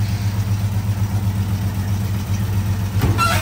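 A 1953 Chevrolet 3100 pickup engine idles steadily with a deep, even low rumble, close and loud, then a brief clatter and a slight rise near the end.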